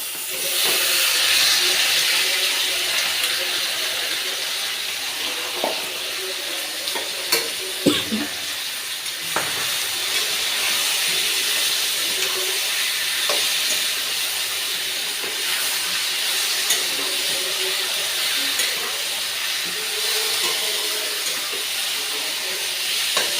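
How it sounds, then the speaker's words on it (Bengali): Chicken meat is tipped into a pan of fried cumin and sizzles loudly and steadily, with a constant hiss and occasional scraping clicks of stirring. "দেখো বন্ধুরা, জিরেটা প্রায় হয়ে এসছে, আমি এবার এতে মাংসটা ঢেলে দেব।"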